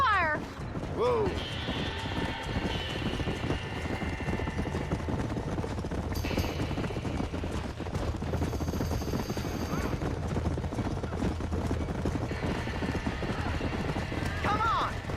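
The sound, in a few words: horses neighing in a burning barn, from video game Red Dead Redemption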